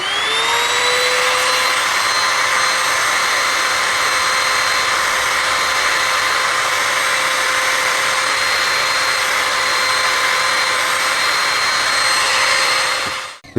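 An HL 3703 trimmer motor runs at about 30,000 RPM, producing a loud, steady high-pitched whine with a smooth, even drone held for the whole stretch before it cuts off at the end.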